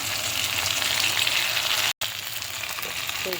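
Potatoes fry in a pan as ginger-garlic paste goes in for katla fish-head muri ghonto, giving a steady, close, loud sizzle with one brief silent gap midway and no talking.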